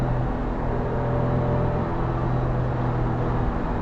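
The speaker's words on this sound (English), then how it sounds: "If you put your foot down from a standing start, it will slip the clutch a bit more" Smart Roadster accelerating hard from a standing start, its small engine giving a steady, close droning whir with layered harmonic tones that holds throughout, with no voices.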